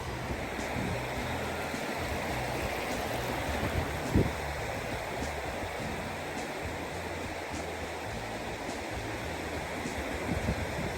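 Shallow seawater swirls and washes around legs while someone paddles at a west-coast beach in October, a continuous close rushing and lapping with one brief splash midway and no talk.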